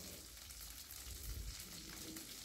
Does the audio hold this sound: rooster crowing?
no